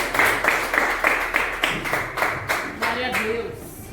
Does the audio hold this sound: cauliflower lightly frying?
no